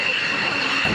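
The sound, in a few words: airplane landing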